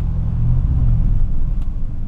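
A 1976 Ford Thunderbird engine revs hard on automatic kickdown, giving a loud, steady low rumble up close for about two seconds with no talking.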